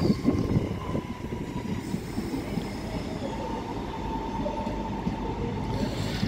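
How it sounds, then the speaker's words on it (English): A Northern Trains Class 323 electric multiple unit from Manchester Piccadilly passes at a station, a steady loud rumble of wheels on rail with faint squeal, no talk. "323228 from Manchester Piccadilly. Class 323 networker,"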